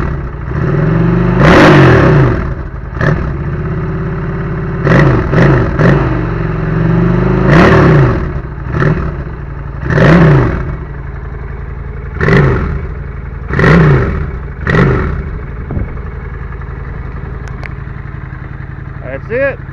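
An old stock 750 motorcycle engine starting and being revved in a series of sharp throttle blips that rise and fall about every two seconds, loud and close over a steady idle.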